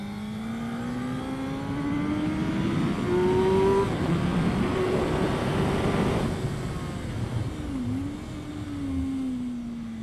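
A race car at Winton Raceway, its engine droning and revving up through the gears on track, rising and falling in pitch with a loud, close onboard roar and a brief drop as it lifts off.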